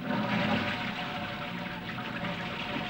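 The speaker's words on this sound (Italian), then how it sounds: "Tutta automatica in da sta casa, pure lo sciacquone" An automatic toilet flush in a house, a continuous loud rush of water swirling and draining that runs steadily for the whole stretch with no speech over it.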